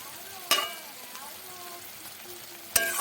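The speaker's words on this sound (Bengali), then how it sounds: "এই 1 চামচ মতো একটু বাটার দিয়ে দিলাম।" Butter sizzling in a pan while palak paneer cooks, a soft steady fry hiss close by with two sharp clinks of a utensil against the pan, no voices.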